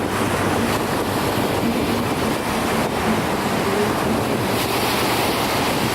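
Atlantic Ocean waves and surf breaking on the Portuguese coast, a steady broadband wash with wind noise on the microphone, continuous and fairly loud throughout with no voices.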